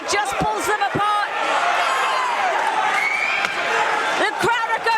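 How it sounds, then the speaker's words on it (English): Crowd at a live boxing fight roaring and cheering loudly throughout, with shouts and whoops rising and sharp slaps or thuds cutting through the steady din, commentary voices mixed in. "The crowd are going absolutely wild here at your call"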